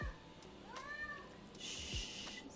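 A house cat meows twice, a rising-falling cry near the mic, with a brief hiss of noise in between and no talk over it.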